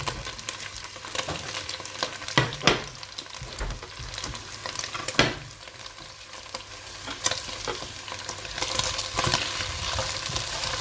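Shallots stir-frying in a pan of olive oil for beef bourguignon, a steady close sizzle with stirring scrapes and a few sharper clicks of the utensil, no talking.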